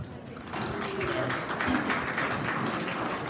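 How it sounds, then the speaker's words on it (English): A small audience at a talk gives a short round of applause, clapping rising after a moment and staying steady, with a voice faintly underneath. "And yes, round of applause for Pam."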